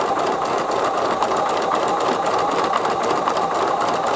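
A sewing machine stitching through a fabric hexie for a hexie basket, running in a steady, fast, even whir with a mechanical rattle, close and constant throughout.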